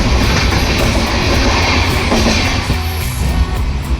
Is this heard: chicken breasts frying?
no